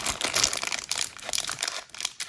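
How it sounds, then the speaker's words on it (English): Plastic packaging for Pokemon terrarium toys crinkles and crackles as scissors struggle to cut through it, a close, continuous rustle with uneven bursts. "Okay, this plastic won't cut. Either that or my scissors is really bad."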